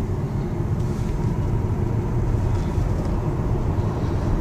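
A plug-in hybrid car accelerates on a three-lane road in electric-only mode, giving a steady, loud interior roar of road and wind rumble with no engine note rising above it, continuous throughout with no talking.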